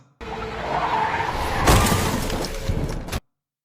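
A film scene where a car skids and strikes a man on a road. Tires squeal loudly and steadily, and a sharp impact crash breaks through midway before the sound cuts off abruptly.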